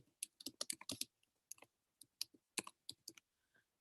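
Someone types on a computer keyboard in quick irregular bursts of crisp, close clicks with brief pauses between runs, quiet and alone without voices.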